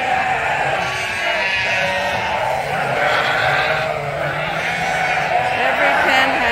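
A flock of Suffolk and Dorset sheep in pens bleats at feeding time, many overlapping calls forming a steady, dense chorus with no pause.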